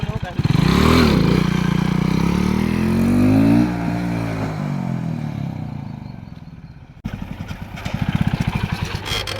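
Hero Splendor motorcycle engine revving hard in first gear, rising and falling in pitch, then fading as it eases off, with a clattering, pulsing idle near the end. The bike is close by and loud.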